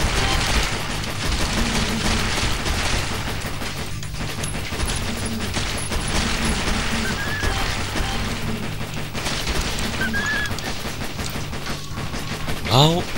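Constant gunfire and crashing violence from a top-down Zombie Shooter game, with pistols among the weapons, filling the whole stretch as a dense, steady barrage under game noise.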